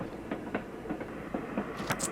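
Riding a train in the game Little Witch in the Woods: a quiet, steady rolling rumble with a regular clickety-clack of wheels over rail joints, heard at moderate distance with no talk.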